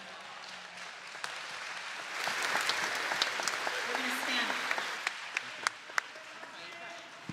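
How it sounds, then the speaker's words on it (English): A congregation applauds at a Kol Nidre service, steady moderate clapping from a crowd with a few sharper individual claps standing out near the end. "You got applause, Tim."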